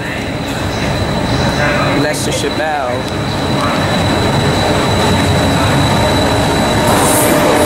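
A Class 377 electric train passes a level crossing at Portslade, a loud continuous rumble and rail roar that fills the whole stretch, with a brief squeal partway through and a person speaking under the noise.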